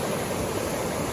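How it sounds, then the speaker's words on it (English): Creek in the Smoky Mountains rushing over rocks, a loud, steady, close wash of flowing water with no pauses and no voices. "Creek goes on farther."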